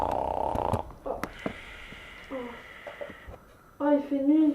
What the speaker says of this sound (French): L'autre est déjà dormi, on l'entend ronfler